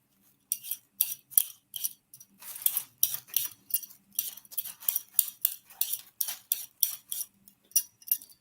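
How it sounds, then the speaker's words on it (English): A hand peeler scrapes potatoes in a home kitchen, making a quick irregular series of sharp, crisp clicks and scratches, close and fairly loud with short pauses between strokes. "It's like the clicking sound of trying to peel potatoes."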